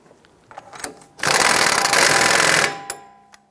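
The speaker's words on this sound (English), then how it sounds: "Let's go ahead and spin on our axle nut. We'll go ahead and snug that down." A power tool spins the axle nut tight on a 2001-2007 Ford Escape during a strut assembly replacement, heard as a loud, continuous buzzing burst of about a second and a half with faint clicks before and after.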